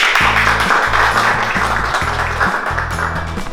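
Steady applause greets a guest, a dense wash of many hands clapping at close range that keeps going throughout, with a looping low musical figure underneath.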